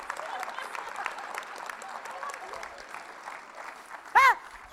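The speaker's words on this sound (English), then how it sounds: "Let me give y'all a chance to applaud." An audience at a state educators' conference gives a poet steady, moderately loud applause that carries evenly throughout, while a single voice briefly cuts in near the end.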